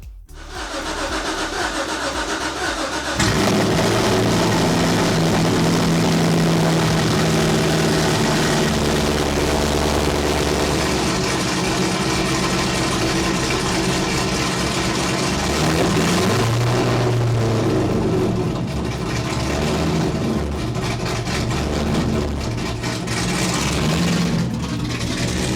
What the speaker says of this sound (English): we got the Corvette running